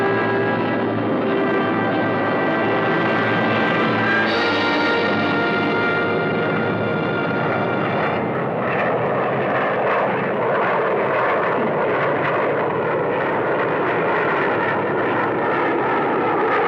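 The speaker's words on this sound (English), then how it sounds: "The CF-100 is ready for her first takeoff." Avro Canada CF-100 twin-jet fighter on its takeoff run, a loud, sustained roar of two jet engines with rising whine, filling the air throughout without any voices.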